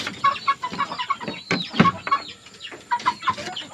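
Two-month-old young gamecock chickens cluck in short repeated bursts close by after eating, with soft rustling between the calls.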